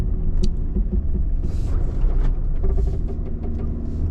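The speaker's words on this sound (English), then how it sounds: "Got wheel slip happening already" A Subaru Outback's tyres spin and scrabble on slippery ground, with a churning mechanical rumble, creaks and bursts of scraping from the wheels, close and continuous.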